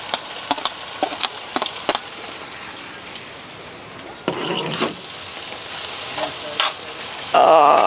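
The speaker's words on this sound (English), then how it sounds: "That tomato has softened up, so I'm going to add the onion and the garlic." Tomato, onion and garlic sizzle in a pan at a seaside campsite, a steady close frying hiss punctuated by sharp pops and crackles, surging louder near the end.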